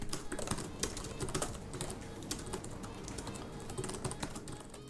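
Rapid, steady typing on the clicky mechanical keyboard of an MSI GE76 Raider gaming laptop, keys clattering continuously at close range with no voices.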